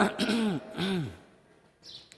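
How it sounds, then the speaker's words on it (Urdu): A man clears his throat twice in quick succession, a voiced, rasping sound close to the microphone during a religious lecture on prayer, followed by a brief faint hiss. "کھنکارنا بلا وجہ"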